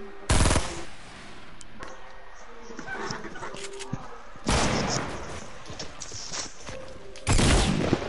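Gunfire in Fortnite: bursts of rapid shots, some loud and close, others quieter and farther off, spread unevenly across the scene.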